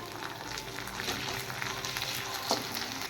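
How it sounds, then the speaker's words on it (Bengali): Tomatoes frying in a pan with ginger and garlic, giving a steady close sizzle with scattered crackles and a soft scrape of stirring near the end, with no voices. "এবার টমেটো দিয়ে দাও হ্যাঁ, এবার আর একটু ফ্রাই করো"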